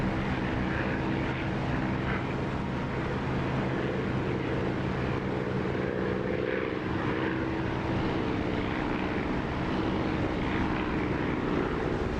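A propeller aircraft engine from a DCS or War Thunder flight simulation drones steadily and loudly throughout, a dense, even roar with a faint underlying hum and no talk.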